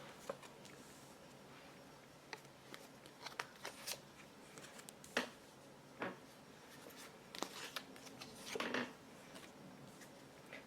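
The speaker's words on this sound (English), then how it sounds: "shuffling the cards." A deck of tarot cards is shuffled quietly up close, giving soft irregular riffles and slaps in short bursts with pauses between, alone without talk.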